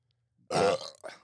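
A single loud, close burp from a man, short and throaty with a brief second gulp at the end, set against near silence.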